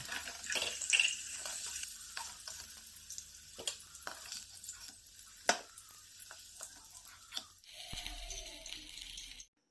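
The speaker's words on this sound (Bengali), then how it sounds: "আলুগুলো কিন্তু আমি লাল লাল করে ভেজে নেব" Potato pieces fry in hot oil in a kadai, giving a steady soft sizzle broken by scattered clinks and scrapes of stirring. The sizzle changes near the end as the pan is handled.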